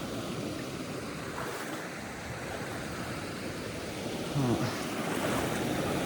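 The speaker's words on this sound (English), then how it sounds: "So there's a bit of a waterfall there." A small outdoor waterfall pours over a jam of tree logs, giving a constant, even rushing roar that fills the scene at moderate distance.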